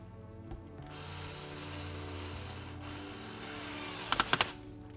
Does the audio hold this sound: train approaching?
no